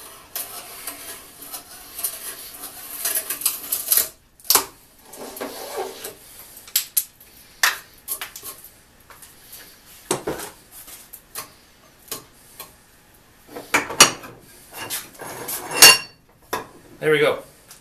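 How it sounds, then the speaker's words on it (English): An adjustable auger bit with a single cutter bores an inch-and-a-half hole through wood, giving a steady run of scraping, crunching and ticking cuts in irregular bursts, close and fairly loud, with brief pauses between turns. "we line back up again and bore through from this side so we don't break out"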